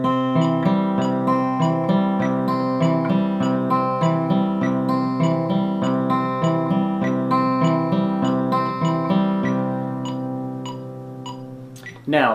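An acoustic guitar picks a steady Piedmont blues outside pattern, an alternating bass thumb under plucked treble notes in an even rhythm, close and clear for about twelve seconds before stopping.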